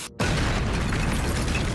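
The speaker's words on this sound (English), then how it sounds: "They carry out big explosions underground." A cartoon underground explosion set off by digging dwarves: after a brief silent beat, one loud, sudden boom bursts out and rumbles on heavily to the end.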